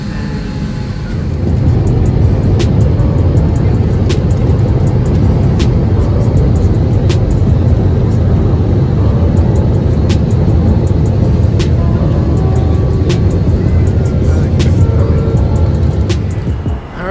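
Inside the cabin of an Alaska Airlines plane landing in Seattle, a loud steady engine and rolling roar fills the whole clip, with faint rattles and clicks over it.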